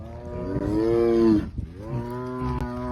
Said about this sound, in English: Are you mooing because you want to be one with the cows?